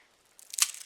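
A single crisp crunch of teeth breaking through a flaky cinnamon puff pastry palmier, short and close, after a brief quiet moment.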